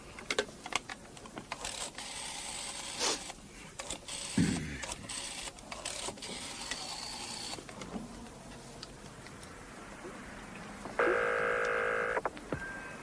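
A telephone is dialed in a hotel lobby, giving quiet clicks and taps of the dial or keys, a brief low thud, and near the end a short, steady electronic tone, all fairly faint with no talking.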